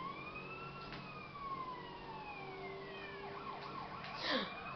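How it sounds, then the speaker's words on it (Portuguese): A police siren wailing up and down in GTA, steady and moderately loud, with a crash-like burst near the end. "Que bom que eu tô de sirene, porque todo mundo sai da frente."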